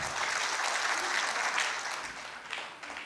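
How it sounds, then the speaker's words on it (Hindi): An audience at a comedy show of husband-and-wife jokes gives sustained, fairly close applause that swells and then tapers slightly. "ताली बजनी चाहिए"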